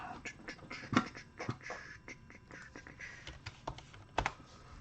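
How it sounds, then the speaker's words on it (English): Someone types on a computer keyboard in uneven bursts of close, crisp key clicks, with a few louder keystrokes standing out. "Let me find the keyboard."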